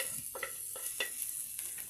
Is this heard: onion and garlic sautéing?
yes